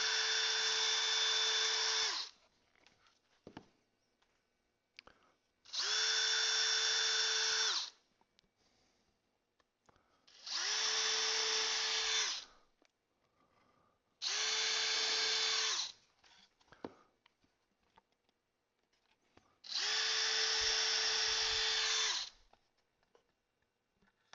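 A power drill bores holes while a wooden bluebird house is assembled, five separate whining bursts of a few seconds each with short quiet pauses between them, close and loud.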